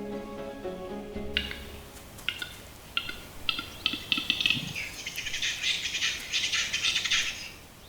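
A capercaillie cockbird gives sharp clicking display calls during its mating ritual in a cold, wet primeval European forest, a run of distinct clicks that quicken and echo through the trees, with other bird sounds in the background.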